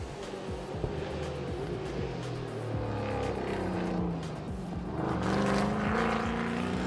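A TA2 race car engine rumbles at Sepang International Circuit in Malaysia, a loud sustained roar with shifting pitch as the car passes, blending with other track engine noise and no talk over it.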